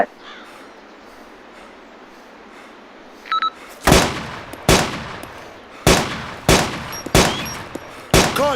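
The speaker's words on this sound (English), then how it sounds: "Contact! Enemy machine gunner." Loud gunfire bursts in a shooting video game, about eight sharp reports spaced irregularly after a quiet stretch, close and punchy with ringing tails and no talk.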